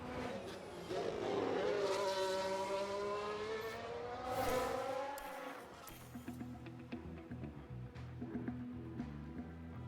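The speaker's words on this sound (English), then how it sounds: "Sounds like we've had a spin." In the video game F1 Manager 2022, a Williams race car spins in Bahrain; a high engine whine and tire squeal rise and fall before fading into quieter clattering track sounds.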